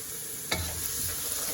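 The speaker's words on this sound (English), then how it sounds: "We're gonna put in our garlic here." Garlic hits a hot pan in a sudden loud sizzle that settles into a steady frying hiss, with stirring in the pan, while beef for a sweet and sour dish has just finished cooking.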